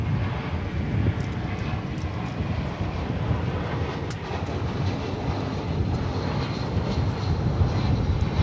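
A fixed-wing airliner roars past at DFW Airport, a loud, steady, broadband engine rumble and whoosh that holds throughout with no voices.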